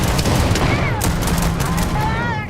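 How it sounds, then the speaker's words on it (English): Minigun firing in the video game Starfield, a loud continuous rapid-fire roar with whining spin-up tones, sustained for a couple of seconds. "I want to get back to my minigun"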